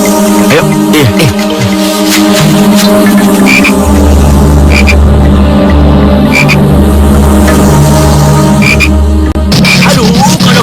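Frogs croak loud and close, a dense, continuous chorus of repeated rasping calls throughout, with no speech.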